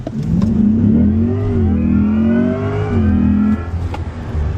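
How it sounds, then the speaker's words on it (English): A car accelerates hard at full throttle from a rolling start, its engine rising in a loud, steady climbing drone that pulls through a gear change near the middle and then drops off as the throttle lifts. "Start rolling and I'll tell you when to floor it. Floor it."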